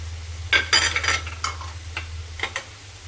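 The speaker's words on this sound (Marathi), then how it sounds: "हे मिक्स करून घेऊया" Jaggery filling for steamed modak being mixed in a pan, a handful of scraping, clinking stirs in quick irregular bursts, close and fairly quiet over a low steady hum.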